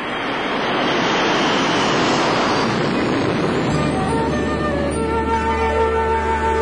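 A PSA McDonnell Douglas Super 80 jet airliner at Burbank airport early in the morning, its engines giving a loud, steady roar with wind-like rush, settling into a sustained whine with a low rumble.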